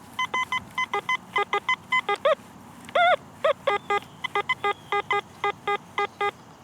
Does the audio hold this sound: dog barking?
no